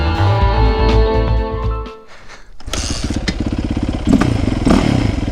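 A Yamaha YZ450 dirt bike engine on a test ride, loud and close: a steady rev that cuts out briefly, then picks up again with choppy, rising revs and a few hard thumps.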